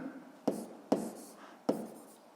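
A pen writes a label on paper in three short, sharp scratching strokes spaced apart. The sound is quiet and close, with faint room hiss between the strokes.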